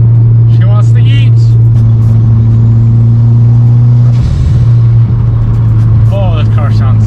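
A Mitsubishi Lancer Evo engine runs loud and close with a steady droning hum, shifting pitch briefly midway, while faint voices sound beneath it.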